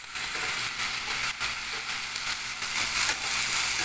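Ginger paste fries in a pan for a chicken heart fry, giving a steady, close, bright sizzle with faint crackles throughout and no voices.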